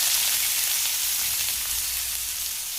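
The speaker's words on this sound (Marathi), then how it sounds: "चला, आता ह्याच्यात कांदा टाकून घेऊया." Chopped onion fries in a pan left from cooking okra, giving a continuous, moderately loud hissing sizzle that stays steady throughout with no voices.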